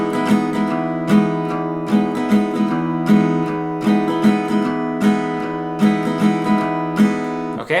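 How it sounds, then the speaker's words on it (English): Acoustic guitar strummed in a repeating 5/4 pattern, bright chords ringing with accented downstrokes grouped in fives, played alone and close. "This next strumming pattern is going to sound like this."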